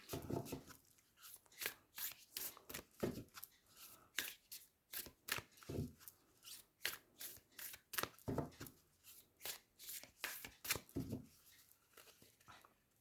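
Moonology oracle cards are shuffled close up in a quiet room, a long run of rapid papery riffles and slaps in an uneven rhythm, soft and without talk.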